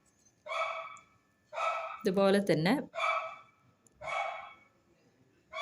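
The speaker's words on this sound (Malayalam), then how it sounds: "തൊട്ടടുത്ത വീട്ടിലെ ഫ്ലാറ്റിലെ പട്ടിയാണ് നല്ല ഒച്ചയുണ്ടാക്കുന്നുണ്ട്." A neighbour's dog in an adjoining flat barks in a short burst of several loud, close yelps, set between stretches of a woman's speech indoors.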